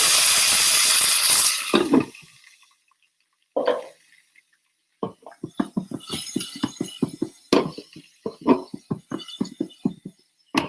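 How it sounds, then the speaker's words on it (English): Water is poured onto burning sugar in a kettle corn pot. A loud hiss of steam lasts about two seconds, then gives way to scattered crackles and sputters that keep on at irregular intervals. "Add a little water in there because we got some burning sugar."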